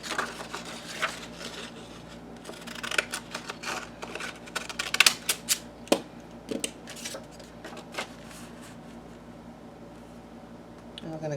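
Scissors cutting pink paper, a series of sharp, close snips and crisp paper rustles in an irregular rhythm, with a person talking in between.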